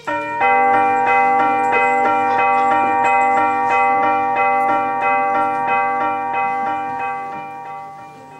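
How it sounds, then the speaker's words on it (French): Bells ring continuously with a rich sustained chime, repeated strikes layering into a resonant peal that fades slightly at the end. "sonnez les cloches"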